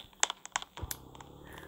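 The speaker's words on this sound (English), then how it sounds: "It's just typing." A few faint, scattered keyboard clicks from typing on a computer keyboard, quick taps at irregular spacing over a quiet room background.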